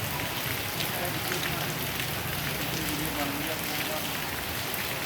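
Monsoon rain falling steadily on a neighbourhood in Faisalabad, a dense, even hiss of drops on surfaces throughout, fairly near and constant, with no talk heard.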